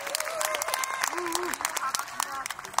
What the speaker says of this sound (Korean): 다시 한번 큰 박수로 맞아주시죠